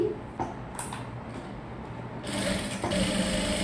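A sewing machine stitches fabric for the border of a short gown, running as a continuous close whirring hum that grows louder and steadier in its second half.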